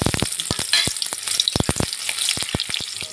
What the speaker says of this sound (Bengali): তেলটা গরম হয়ে গেছে, আমি ফোড়নে দিচ্ছি তেজপাতা।